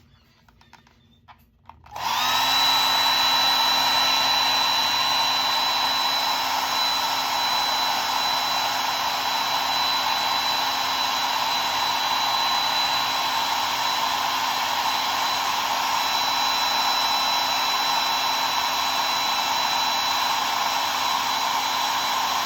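A hair dryer blows steadily on a goldfinch painting, switching on after a short quiet moment and then holding a loud, constant whooshing hum with a faint high whine, without pause.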